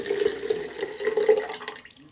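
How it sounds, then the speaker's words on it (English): Leftover cold brew coffee is poured into a jar, giving a steady trickling, splashing pour that runs close and continuous for about two seconds, then tapers off at the end. "So I'm going to use a jar and pour the leftovers of the cold brew"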